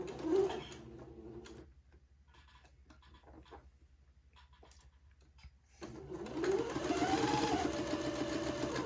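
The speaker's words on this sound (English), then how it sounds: "now I will sew at about 1/16 or 1/8 of an inch away the first pass of the French seam" A sewing machine stitches the first pass of a French seam on a smocked bonnet, whirring in a burst at the start and again steadily from about six seconds to the end, with quiet clicks and handling between.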